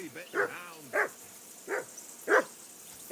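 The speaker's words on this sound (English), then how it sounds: "that barking's driving me nuts" A dog in Kingdom Come: Deliverance II barks four or five times at steady intervals, clear and fairly close, with a voice audible briefly near the start.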